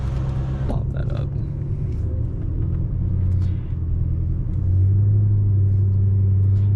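Low exhaust rumble from a BMW F10 M5 with a new exhaust cruising at low revs, a steady raspy drone that deepens and swells toward the end, heard from inside the car.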